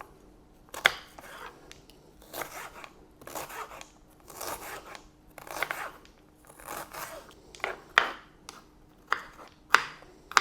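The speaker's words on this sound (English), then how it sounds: "I'm probably just going to use the same knife and just chop up my onion" A knife chops an onion on a board in irregular crisp cuts, each a short crunchy tap, some in quick bursts, close and fairly quiet with no talk.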